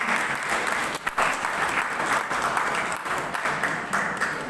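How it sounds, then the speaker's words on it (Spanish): A church congregation gives a loud round of applause for fellow members, dense continuous clapping that fills the hall for several seconds. "un fuerte aplauso para nuestros hermanos"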